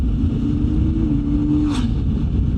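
A CFMOTO 450 MT motorcycle engine cruising at 60 mph in fifth gear around 3,200 RPM, a steady, close, loud drone mixed with rushing wind noise, no voices.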